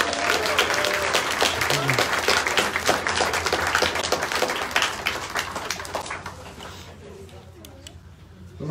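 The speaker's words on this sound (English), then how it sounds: "Can you give them a good cheer?" A church audience at a Tailgate Sunday service breaks into loud, sustained applause and cheering that fills the room for several seconds, then tapers off into a quieter murmur.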